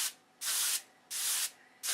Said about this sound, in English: And just keep sanding until all the area is the same color.